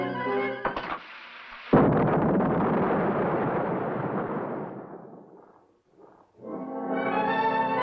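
A sudden loud explosion from a lit fuse bursts in with a heavy boom, then rumbles and slowly fades over several seconds before other sound returns.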